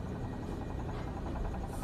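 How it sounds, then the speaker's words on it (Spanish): A washing machine runs close by indoors, giving off a steady droning hum with a slight pulsing vibration and no pauses. "¿Qué suena así? La lavadora."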